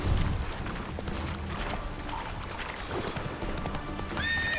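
A horse in The Witcher 3 gallops with rapid, steady hoofbeats, and a loud neigh breaks out near the end, all close and clear without talk.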